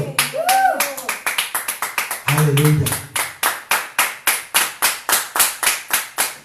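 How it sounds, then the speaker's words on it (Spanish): Church congregation clapping in rhythm, a steady series of sharp, loud unison claps at a regular beat, with a voice briefly speaking or singing over the opening seconds. "dale un aplauso al Señor"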